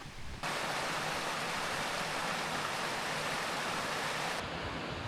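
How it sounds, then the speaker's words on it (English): Creek beside Bradley Fork Trail in the Smoky Mountains, a steady broad rush of flowing water that starts abruptly, stays constant and close, and eases near the end. "I am beside the creek now, and it's become really beautiful in here."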